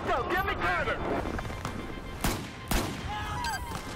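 Gunfire from a Battlefield 4 campaign battle in Singapore, with several loud sharp shots and bursts standing out among ongoing combat noise, while someone talks over the action.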